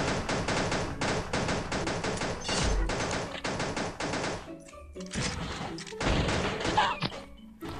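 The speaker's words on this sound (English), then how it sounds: "Wow, they threw grenades up there." Grenade blasts in the mobile shooter Pixel Gun 3D during an online team battle: a dense run of sharp, loud explosive bangs and thuds amid ongoing gunfire, with a heavy low thump midway and further bursts near the end.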